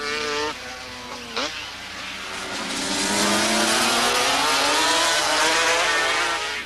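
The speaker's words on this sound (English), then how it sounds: "This is why Randy Momola here takes a tight approach, leaving no room for Kenny Roberts to get inside him" Racing motorcycles sweep through a corner, engines rising and falling in pitch as they lean in, then swelling to a loud, sustained roar as they pass close by.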